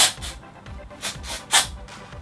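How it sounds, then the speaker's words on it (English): Several short hissing bursts of hair volume spray, a few quick puffs in a row, close and moderately loud with no talking. "put a little bit of the XXL volume spray into the back of this"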